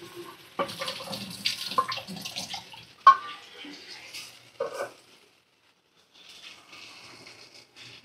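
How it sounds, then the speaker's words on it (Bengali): Water poured into a cooking pot of thin papaya and potato curry, a short splashing pour with clatter of the pot, then a quieter trickle, with a voice briefly heard. "মেপে পরিমাণ মতো জল দিয়ে দেব।"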